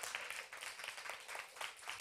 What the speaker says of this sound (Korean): 박삼수 형제님, 박수 부탁드리겠습니다.